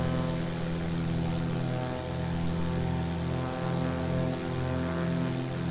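Twin Piaggio P180 Avanti propeller engines in Microsoft Flight Simulator 2020, a loud, steady droning hum with even buzzing tones and no talking.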